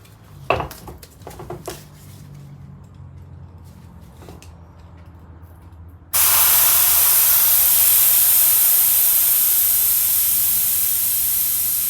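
Air hisses out of a tubeless Kaabo Wolf King Warrior GT scooter tire as a screwdriver pushes in the valve stem, a loud steady rush that starts abruptly after a few faint clicks and knocks and continues to the end.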